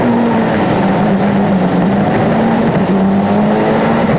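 A Group-A Ford Escort RS Cosworth rally car on Gran Canaria roars loudly and close, its engine holding a steady high drone with slight pitch dips as it drives hard, with no talk.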